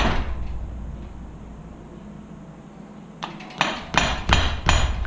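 A dust seal being pried out of a Suzuki DR-Z400 motorcycle fork with a shaped tool, several sharp metallic clicks and knocks in the last two seconds after a quiet start.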